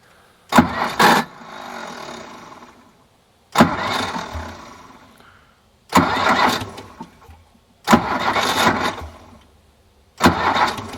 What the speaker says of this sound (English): that starter grinding is killing me